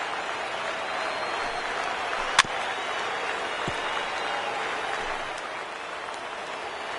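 A baseball crowd in MLB The Show applauds steadily with a soft, rain-like wash of clapping that holds even and moderately loud, with a single sharp click partway through.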